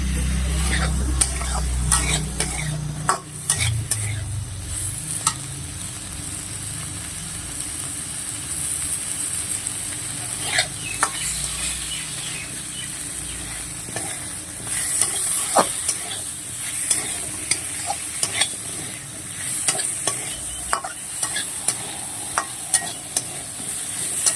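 Potatoes and cut cucumbers fry in a pan, a constant close sizzle broken by repeated scraping knocks of a spatula stirring them, with a low rumble early on.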